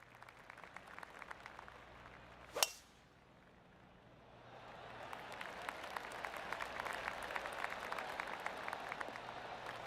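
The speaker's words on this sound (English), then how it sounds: "I can hear the golf claps around the course" One sharp crisp golf strike rings out in a golf video game, then soft, scattered golf claps from a distant crowd around the course build and keep going.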